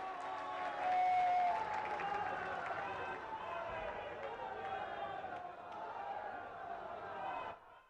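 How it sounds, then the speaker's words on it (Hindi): Crowd at a public event for the Prime Minister on their feet applauding, a sustained wash of clapping mixed with raised voices and crowd noise, fairly distant and soft, fading out at the end. "सभी लोग खड़े होकर जोरदार तालियों से उनका स्वागत करें"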